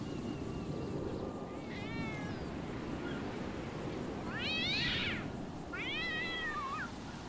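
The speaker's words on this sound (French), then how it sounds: "J'ai une armée de chats sur la route du g 5" Several cats meow in the GTA V video game, a few drawn-out, wavering calls spaced over a steady low rumble of game background noise, with no talking.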